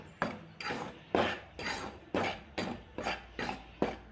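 Wheat flour roasting in a pan on low heat is stirred with a utensil, making eight or nine evenly spaced scraping strokes, each a soft gritty swish against the pan. The sound is close and quiet, with no talk.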